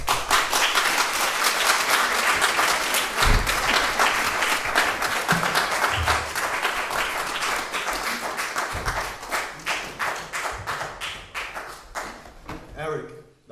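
Audience applause at a poetry reading greets poet J.D. Debris: dense, sustained clapping from a crowd that gradually thins into scattered claps and fades out.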